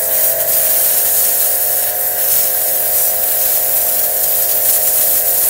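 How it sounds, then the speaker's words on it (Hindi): A StarQ pressure washer blasting water at a hard brick, giving a steady, loud, close hiss with a high-pitched motor whine and no pauses. "मैं आपको दिखाता हूँ कि क्या इस प्रेशर से हम ईंट को तोड़ सकते हैं।"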